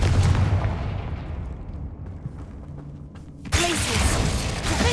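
Confringo fire-blast spells in Hogwarts Legacy: a booming magical blast fades into rumbling, then another sharp burst erupts near the end, loud and close with no talking.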